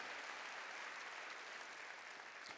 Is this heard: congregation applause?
yes